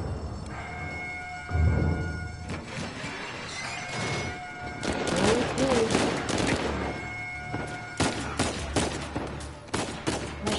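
Chaotic gunfire in the video game Uncharted 4, with volleys of shots and crashes mixed with game music and tones, and voices talking over parts of it.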